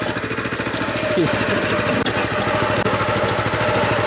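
A Weima walking tractor with a 4+2 gearbox running close by, a steady, loud, chugging single-cylinder engine rhythm with a fast pulsing beat throughout and no clear talk.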